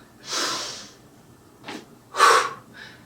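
Deep breaths in and out during an exercise class: a long audible exhale, then shorter rushing breaths and another strong puff, close and clear with quiet pauses between.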